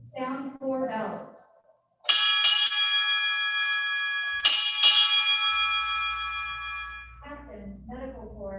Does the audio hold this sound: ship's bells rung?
yes